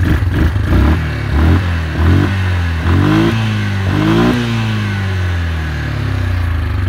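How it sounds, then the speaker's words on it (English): Yamaha ATV 4x4 engine idling in neutral and revving in several rising bursts, each throttle blip climbing then settling back, loud and close with a steady idle rumble between them. "Motor sounds really good."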